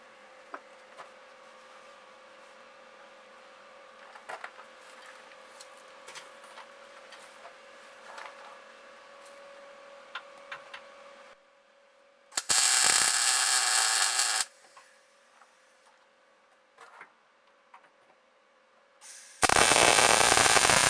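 Tack welding a cross member onto a Volvo 122 frame during rust repair: two loud, harsh bursts of broadband crackling, one lasting about two seconds and a later one cut off at the end, over a quiet hum with faint workshop clatter.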